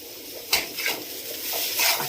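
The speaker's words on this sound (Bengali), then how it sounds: "একটু নাড়াচাড়া করেই নামিয়ে নেব।" Pointed gourd and prawn paste stirred in a pan: a few soft scraping strokes with a brief spoon clatter, over a faint steady sizzle, close and fairly quiet.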